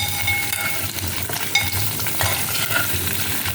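Radish and small onions sauté in a pan for sambar, a close crackling fry interrupted by quick spoon scrapes and stirs, with no one speaking.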